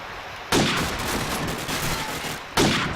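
Sustained rapid gunfire in a Call of Duty 4 promod competitive match on the Strike map, a dense continuous burst of shots with sharp onsets at the start and near the end, loud and close.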